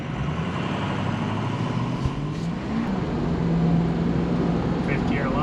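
A Ford 6.0L truck with a 5R110 transmission slipping in tow haul mode, heard as a steady loud engine and drivetrain drone with a rising whine, with no talk over it.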